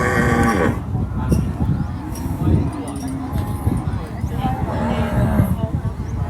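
Cattle at a livestock market in Warin, Ubon Ratchathani, low lowing moos rising now and then amid busy market bustle, with people talking loudly throughout.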